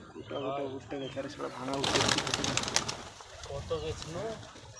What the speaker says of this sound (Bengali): কবুতরের ভাই যে এত ছটফটে বাপরে বাপ